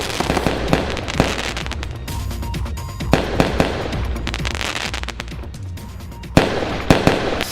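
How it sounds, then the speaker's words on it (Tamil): Diwali fireworks and firecrackers go off in a celebration in Tamil Nadu, a dense stream of sharp crackling pops and bangs with louder bursts scattered throughout. "வண்ண வண்ண பட்டாசுகளை வெடித்து தீபாவளியை கோலாகலமாக மக்கள் கொண்டாடினர்"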